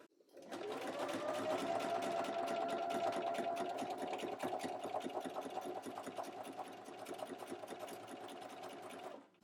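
A sewing machine with an edgestitch foot runs steadily for about nine seconds, the stitch line guided an even distance from the fabric edge, with a fast, even mechanical chatter at moderate, close level.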